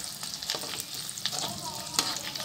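Scrambled eggs and sausage sizzling and crackling in a frying pan, with stirring scrapes and pops, close and continuous.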